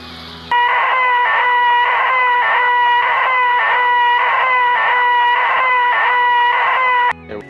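A player in Black Ops 2 voice chat imitates an owl with a steady series of loud, evenly spaced hooting calls that run for about seven seconds without pause.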